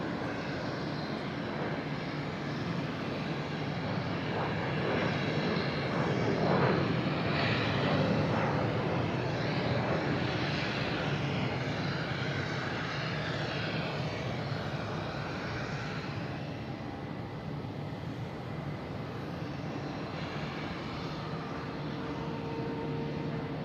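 A Delta Embraer E175 jet airliner at Boston Logan International Airport produces a sustained, rumbling engine roar that holds steady for a long stretch, peaking early, then easing slightly as it continues at a distance.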